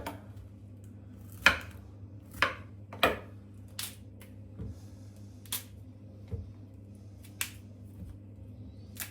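A kitchen knife cuts food on a board, several sharp isolated chops and taps spaced a second or so apart over a steady low hum.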